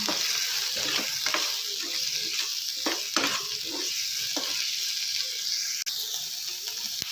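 Finely chopped capsicum goes into onions frying in a pan and is mixed well, with a steady sizzle under repeated close spatula scrapes and stirring knocks.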